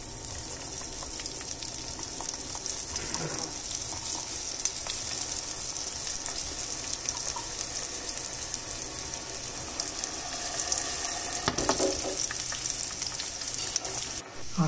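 Sliced onions fry in hot oil with cumin seeds for a masala dosa potato filling, giving a steady, close hiss throughout with a couple of brief scraping bursts from stirring.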